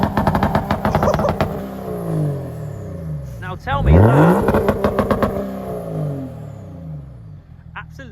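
BMW diesel engine fitted in a Land Rover Defender revving hard, rising and falling through several loud close blips with a sharp sweep in the middle, while someone talks over it.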